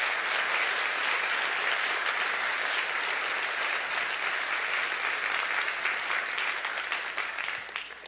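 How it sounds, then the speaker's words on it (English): Sustained audience applause at the Atlassian Summit 2011 keynote, a dense, steady wash of many hands clapping that fills the hall and starts to taper off near the end. "So can we have a round of applause for our staff?"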